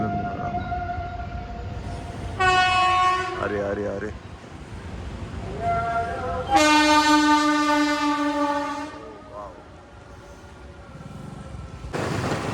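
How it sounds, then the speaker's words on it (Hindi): A train horn sounds in several long, loud blasts at a busy railway crossing where traffic waits at the closed gate, with someone talking excitedly between and over the blasts. "ओ ट्रेन का आवाज़ आ रहा"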